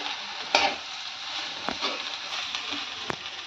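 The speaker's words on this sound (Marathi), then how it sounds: "कोथिंबीर मिक्स करून घेते याच्यात भुर्जीमध्ये" Coriander gets stirred into egg bhurji in a pan, a spatula scraping and tapping in a few sharp strokes over a steady soft sizzle of frying.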